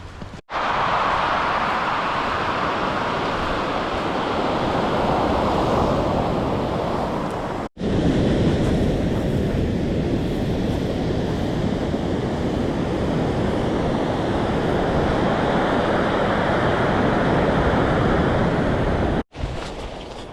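Ocean waves breaking and washing up on a beach along the West Coast Trail, a loud continuous roar of surf with wind, broken by two brief cuts, no voices.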